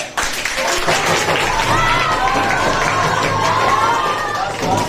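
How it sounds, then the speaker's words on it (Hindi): Hands clapping in a classroom during a maths lesson, a sustained burst of clapping and crowd noise with voices mixed in throughout, fairly loud and close. "बच्चे ने यार ताली बजा दिया"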